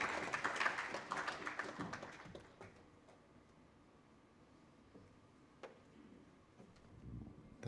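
An audience applauds to welcome a speaker on stage at the Plan India Impact Award 2025 ceremony, a dense burst of clapping in the first couple of seconds that quickly fades to scattered claps and near quiet.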